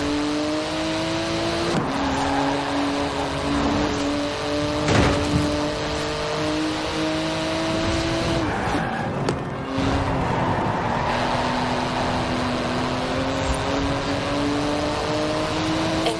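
A twin-turbo, 700-horsepower carbon-fibre supercar in the Forza Horizon 4 racing game, its engine droning steadily at high revs with shifting tones as it accelerates and changes gear, loud and constant throughout.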